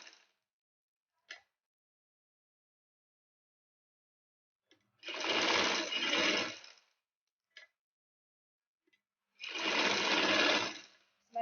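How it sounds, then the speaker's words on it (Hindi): A sewing machine runs along a fabric border while stitching a poncho, in two sustained close bursts of a couple of seconds each, separated by silence and faint clicks. "ये हम बिल्कुल बॉर्डर के साथ साथ सिलाई लगाएंगे"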